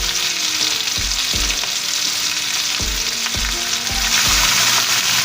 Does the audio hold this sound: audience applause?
no